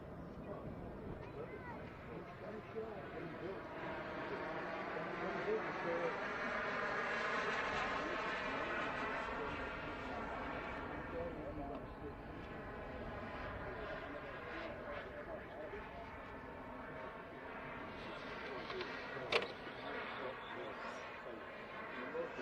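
Engines of an Avro Vulcan bomber in flight during a test flight at RAF Elvington make a faint, steady distant roar with slight surges, while someone talks over it throughout.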